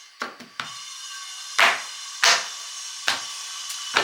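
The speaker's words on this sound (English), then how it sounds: "It sounds like they're cutting metal actually outside, or a really bad power tool for the garden" Outdoor power tool cutting metal, heard as a series of short, harsh, rasping bursts at irregular intervals, moderately distant, with steady background hiss between them.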